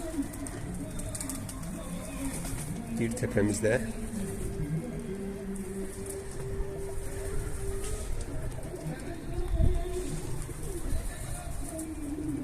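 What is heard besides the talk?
pigeons cooing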